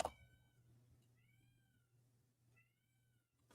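A cat gives three soft, drawn-out meows spaced a second or so apart, quiet and slightly distant over a steady low hum in an indoor room.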